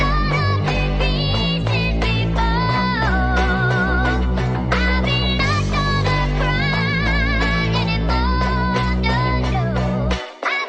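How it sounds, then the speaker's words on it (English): The Rose bass synth preset from Ableton plays a repetitive pattern under a full, dense beat built on a chopped sample, loud and continuous before stopping abruptly near the end. "So then I grabbed this Rose bass from Ableton"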